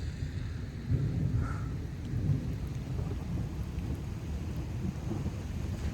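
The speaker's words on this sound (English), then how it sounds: "that was some of the most insane thunder that I've maybe heard" Thunderstorm in Houston, Texas: a low rolling rumble of thunder swelling over steady rain hiss and wind noise, heard outdoors without talk.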